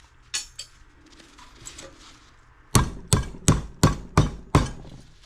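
Hammer blows crack brass parts off a Hilti TKT2000, first a few scattered taps, then a rapid series of about seven sharp, loud metallic strikes in steady rhythm.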